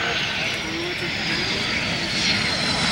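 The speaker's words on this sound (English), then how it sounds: "Beautiful landing in the CF-18 Hornet." A CF-18 Hornet fighter jet landing at the 2003 New York International Airshow, its engine roar a broad, steady wash held at a loud, constant level throughout.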